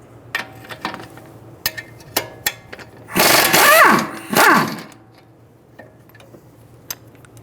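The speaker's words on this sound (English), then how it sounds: "we're going to hold the head of the bolt while we use a 22mm socket to remove the nut" A 22mm socket and wrench work the sway bar bolt nut on a 2007-2011 Toyota Camry front strut: scattered sharp metallic clicks, then two loud whirring bursts of about a second each, close by with no talk.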